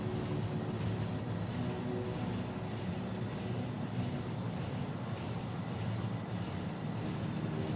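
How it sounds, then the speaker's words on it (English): A train runs in a factory-building video game, giving a continuous dense rumble and rush with a faint steady pulsing throughout, loud and with no talking. "This train ought to be running on nuclear fuel."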